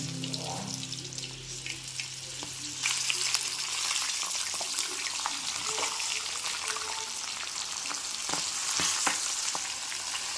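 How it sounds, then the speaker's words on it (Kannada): Corn frying in oil under a plate-covered pan on low heat, a steady close sizzle with scattered pops and crackles throughout, no talk. "ಒಂದು ತಟ್ಟೆನಲ್ಲಿ ಮುಚ್ಚಿ ನೀವು ಇದನ್ನ ಎಣ್ಣೆನಲ್ಲಿ ಕರ್ಕೋಬೇಕಾಗತ್ತೆ"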